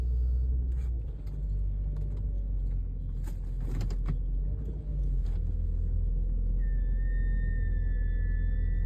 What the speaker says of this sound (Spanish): mi Nissan hace un ruido raro.